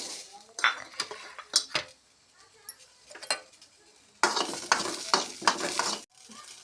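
Onions tipped into a hot pan and stirred, with sharp scrapes and clinks of a spoon against metal in bursts and a soft sizzle underneath, close and clear.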